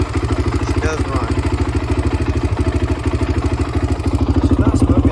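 A sport quad's engine idles steadily up close, a loud, even low-pitched putter with a fast regular pulse running throughout, with no voice heard over it.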